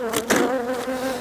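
Honeybees in an open drone-laying hive give a loud, close, continuous buzz with wavering pitch that swells briefly near the start.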